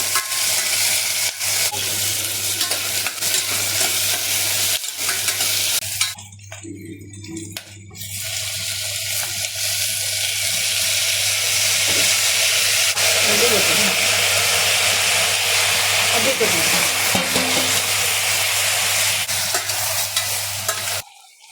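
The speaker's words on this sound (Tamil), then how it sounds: "ஆயில் ஊற்றிருக்கிறோம், வெங்காயம் போட்டுக்கலாம்." Onions, green chilli and curry leaves frying in hot oil, a loud continuous sizzle and hiss with bursts of stirring, the frying carrying on alone for most of the stretch.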